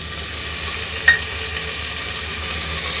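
Chopped tomato being stirred into a frying dal tadka masala for dhaba-style dal fry, a steady soft sizzle with a light scrape of the spoon partway through, close and continuous without talk.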